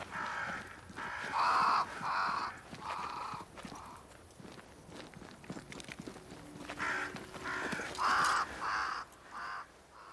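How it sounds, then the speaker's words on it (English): Crows caw repeatedly in the video game Banishers: Ghosts of New Eden, loud harsh calls in bursts across the scene, with footsteps and soft clip-clop sounds beneath. "Crows. They flock to that great tree up there."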